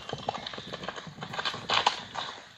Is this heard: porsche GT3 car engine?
no